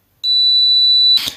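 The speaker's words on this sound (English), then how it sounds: "If you press the switch and you get a buzzer or a low resistance here in the multimeter," A multimeter's continuity buzzer sounds while a switch is being tested, giving one steady, loud, high-pitched beep of about a second that cuts off abruptly into a brief rustle.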